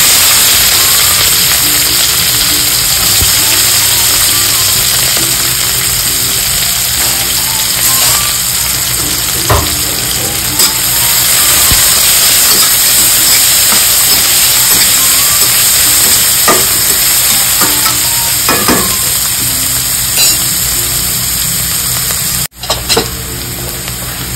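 Steady loud sizzling of onion, green chili, curry leaves, mustard seeds and cumin frying in hot oil in a pan, a continuous close crackle with occasional stirring clicks and no voices.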